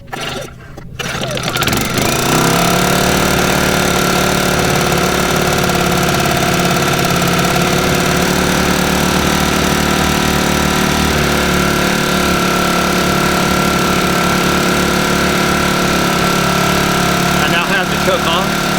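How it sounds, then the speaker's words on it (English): A Sportsman 1000i small portable generator engine sputters to life and settles into a steady, loud running drone with a faint knocking pulse throughout. "Very quiet generator."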